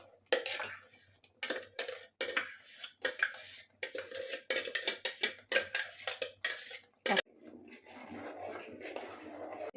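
A milk and ripe banana mixture is poured into a pan, heard as clinking, scraping pan and utensil sounds in bursts with brief pauses, then a softer steady pour near the end; no talking.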